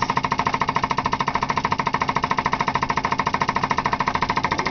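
Small lamina-flow thermal-lag Stirling engine generator with an alternator, running with a rapid, even mechanical knocking pulse, steady and close throughout with no talk.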